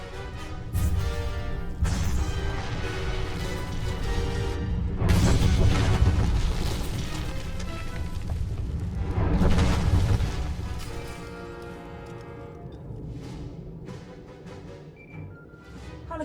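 Explosion in Star Wars: The Old Republic on Corellia, rendered as heavy rolling booms in two big surges over a dense rumbling roar that gradually fades, with almost no talk.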